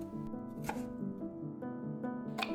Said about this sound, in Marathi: टोमॅटोचे अशा प्रकारे स्लाइसेस करून घ्यायचे आहेत